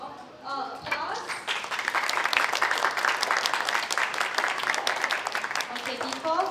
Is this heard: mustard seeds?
no